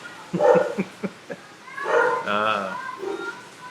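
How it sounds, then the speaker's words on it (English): A dog barks at Christmas carolers: a few short, sharp barks early on, then voices singing and talking over the rest, with the dog mixed in. "Oh, the dog's having fun with the carolers."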